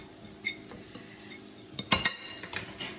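A spoon stirs food in a pot while chicken tetrazzini is being made at home. Scattered metallic scrapes and clinks come close to the listener, with a quick cluster of louder knocks in the middle and a faint background hum.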